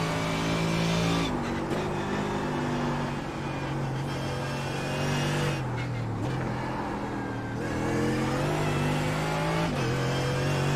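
Mercedes GT3 race car in iRacing at the Nürburgring, its engine loud and continuous as it climbs through the gears, dips on braking and climbs again. Several shifts can be picked out.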